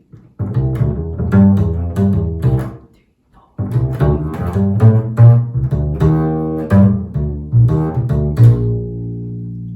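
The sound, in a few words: bebop melody phrase played fast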